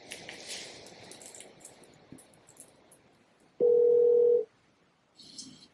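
A telephone dial tone rings out as a call is placed, a steady loud tone lasting about a second after quiet background rustle, followed by faint movement.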